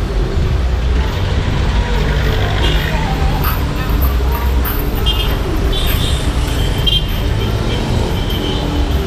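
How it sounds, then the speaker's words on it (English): Busy downtown street in Mandaue, Philippines, with a steady loud wash of car, bus and truck traffic, engines rumbling close by and occasional horn toots cutting through, with some talk mixed in. "As you can tell, it's very noisy,"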